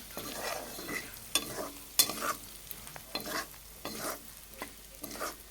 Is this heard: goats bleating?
no